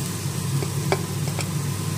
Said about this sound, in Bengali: তেজপাতা, কালো জিরে, শুকনো লঙ্কা ফোড়ন দেওয়ার পরে এই পেঁপেগুলো ভাজা করবো।